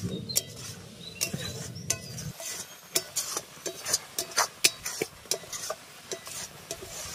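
Mango sandesh mixture of milk, milk powder and chhena stirred continuously in a pan as it thickens, with repeated soft scraping strokes of a spatula in an uneven rhythm, close and fairly quiet, low simmering underneath and no talk.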